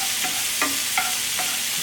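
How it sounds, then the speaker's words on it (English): Three small garlic cloves sauté in a pan for a scallop dish with pink peppercorn sauce, giving a steady close sizzle with a few brief stirring scrapes. No one talks. "Saute this off just a bit."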